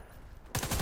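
Gunfire in the video game Warface from a PP-19 Bizon, a sudden loud rapid burst of shots cutting in after a quiet stretch and continuing to the end.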